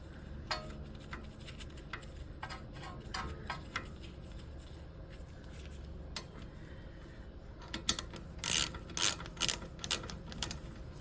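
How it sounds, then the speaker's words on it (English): Ratchet clicking while tightening front brake caliper bolts on a 2006 Mercedes C180 W203, a steady run of faint mechanical clicks that ends in several louder, closer bursts of ratcheting. "I'm only using a medium size ratchet, which I use to undo this, and also I will use to tighten"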